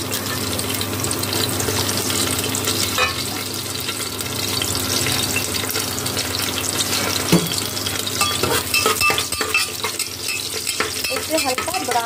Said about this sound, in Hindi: तेल गरम हो चुका है, अब इसमें डाल देंगे मिर्ची, लहसुन और हरा मिर्च।